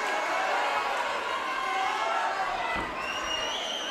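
A boxing match crowd makes a steady, dense roar of cheering and murmuring that fills the arena, with a brief thump partway through and a commentator talking over it.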